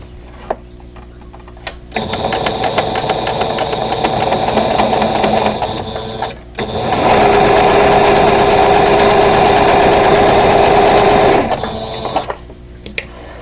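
A sewing machine stitches quilt block pieces together, running loud and close in two long steady whirring stretches with a short pause between, quiet before and after.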